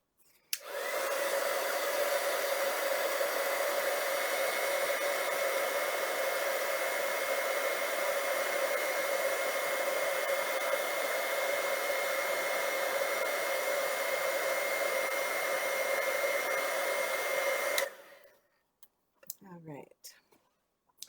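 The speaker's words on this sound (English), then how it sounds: "grab our heat tool and I'm going to heat this up." A craft heat tool blows a loud, steady whirring hum for about seventeen seconds while it warms paper, then cuts off and leaves a few soft handling noises.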